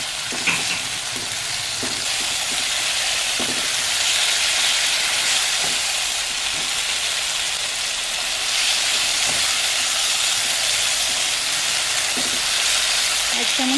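Spice paste frying in a pan with onions and salt, a steady loud sizzle and crackle running throughout with occasional stirring scrapes.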